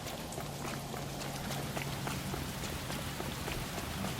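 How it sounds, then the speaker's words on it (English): Steady rainfall in the video game L.A. Noire, a dense, continuous hiss of drops pattering on surfaces, with a low engine-like hum underneath and no talk. "Oh, we got some rain now."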